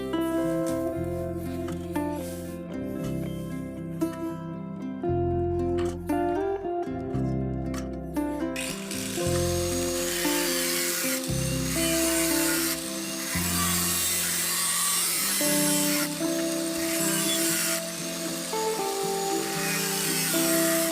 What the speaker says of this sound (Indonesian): kita potong menggunakan gerinda dengan mata cutting wheel